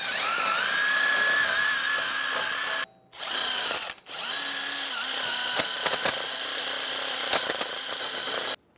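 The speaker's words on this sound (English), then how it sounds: "Using a wire wheel, I'm going to clean the hub face" A power-driven wire wheel scours rust from the front wheel hub face of a 2011–2014 Hyundai Sonata. It gives a loud, steady high whine close by, with two brief stops before it spins up again.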